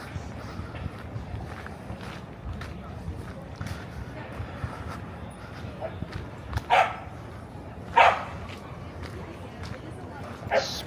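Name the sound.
dogs barking at a dog run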